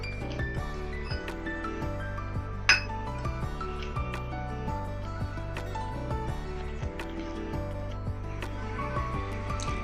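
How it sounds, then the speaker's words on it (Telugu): A spoon stirs ragi flour and water in a bowl, giving light repeated clinks and taps against the rim at an unhurried pace, close and fairly quiet throughout. "ఈ వాటర్ వేసుకుని ఇలా మెల్లిగా"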